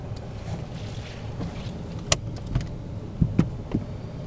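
A 2004 Volkswagen Jetta GLI with the 2.8 VR6 and six-speed manual on a test drive, its steady low road and engine rumble overlaid with wind noise and a few brief knocks and clicks.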